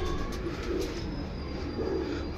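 Black Madrasi pigeons coo softly in a few low, rolling calls against a constant, loud noisy background.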